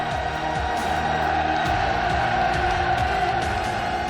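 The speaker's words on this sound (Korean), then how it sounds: "조선민주주의인민공화국 만세의 우렁찬 함성이 울려 퍼졌습니다" A large crowd of young people at a rally celebrating the youth league's 80th anniversary in North Korea shouts massed hurrahs for the DPRK, with voices rising and falling in loud, overlapping waves of cheering.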